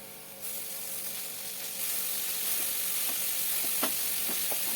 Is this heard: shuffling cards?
no